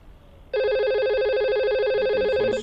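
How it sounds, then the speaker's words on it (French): A Cisco IP desk telephone rings with a bright, loud electronic trilling tone that starts abruptly after a brief quiet moment and continues steadily to the end, with no speech. "écoutez, le téléphone sonne"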